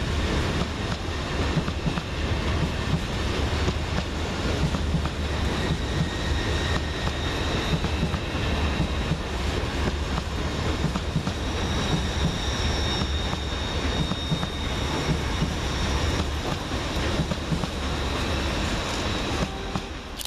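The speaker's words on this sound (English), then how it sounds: "Another taking us by surprise is 800-103, departed with the 12:10 LNER service from Leeds to London King's Cross." LNER Class 800 train 800-103 departs Peterborough station, a loud, continuous broadband roar and rumble of engines and wheels sustained throughout at close range.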